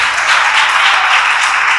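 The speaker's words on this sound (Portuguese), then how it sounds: "Aplaude bem forte ao Senhor, amém?" A church congregation applauds loudly and steadily, a dense continuous wash of many hands clapping close up throughout.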